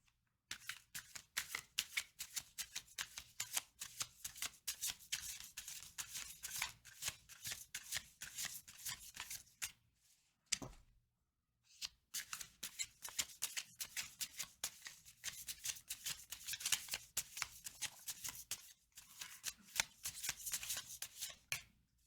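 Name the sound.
tarot cards being shuffled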